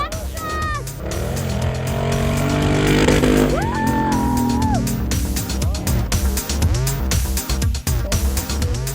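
A Lexus rally car with a 5,700cc V8 engine roars loudly at a rally stage, its revs rising and falling in sharp bursts, with crowd voices mixed underneath.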